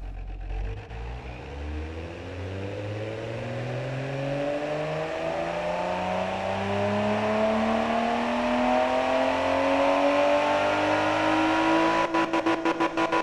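A tuned car engine in the racing sim Automation revs up in a long rising sweep, pitch climbing steadily and loudly for over ten seconds before stuttering at the limiter near the end.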